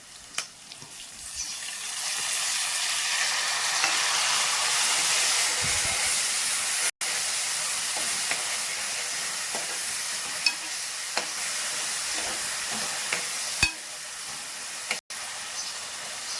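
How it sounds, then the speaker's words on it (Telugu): Tomatoes drop into a pan of frying onions and green chillies for a Korameenu fish curry, and a steady broadband sizzle runs throughout with occasional stirring scrapes and clicks, close and fairly loud, with no talking. "ఇప్పుడు టమాటాలు వేసేద్దాం"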